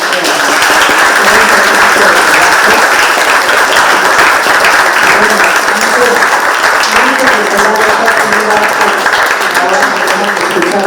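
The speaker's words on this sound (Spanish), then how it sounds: "bueno, pues ahora sí un aplauso" An audience applauds steadily and fairly loudly for about ten seconds, with voices talking through the clapping.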